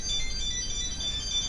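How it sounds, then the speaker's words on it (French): A desktop PC with completely failed RAM gives off a continuous electronic beep, a steady high-pitched tone holding unbroken for the whole moment over a low background hum. "lorsque la RAM est en panne en totalité, elle provoque des sonneries en continu"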